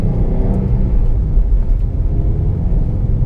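Subaru STI with its 2.5-litre engine and unequal-length headers rumbles steadily from inside the cabin while driving, a continuous low, loud drone with no talk over it.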